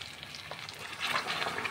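Cooked mutton tipped from a pressure cooker into a hot pan, giving a loud, steady sizzle and fry that swells near the end, with no talk.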